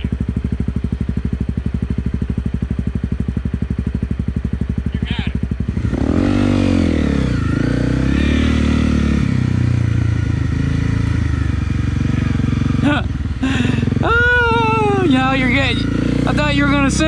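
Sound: Honda CRF 250 Rally motorcycle climbing steep hill

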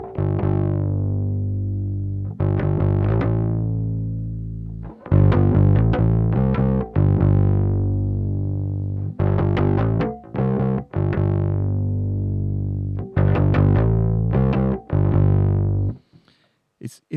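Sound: Great Eastern FX XO variable crossover pedal with higher crossover frequency

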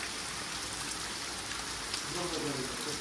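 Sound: heavy rain in Nilakha

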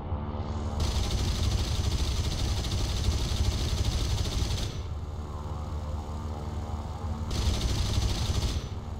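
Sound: damaged Soviet aircraft engine in video game War Thunder

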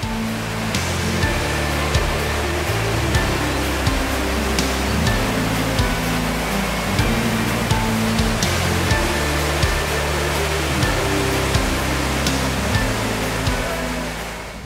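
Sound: Attukad waterfall in Munnar

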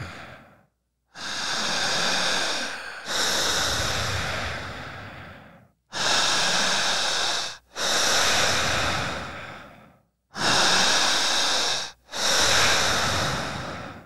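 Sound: strong, fast breathing exercise

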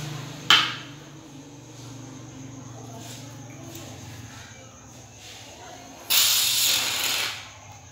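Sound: shaving cream sprayed from a can for DIY slime

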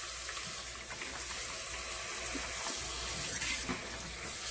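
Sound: washing sliced cabbage under running tap water

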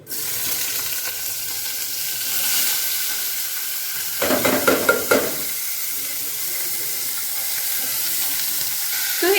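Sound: cumin and onion frying in hot oil

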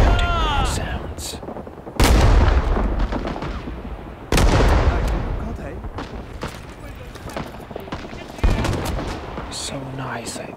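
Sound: gunfire from the video game Rising Storm 2 Vietnam

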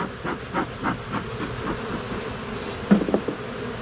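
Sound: buzzing of many bees at a hive

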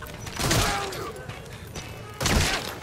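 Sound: gunfire in video game Metal Gear Solid V

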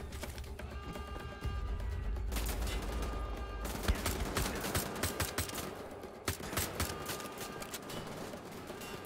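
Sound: gunfire in video game Wolfenstein: The Old Blood

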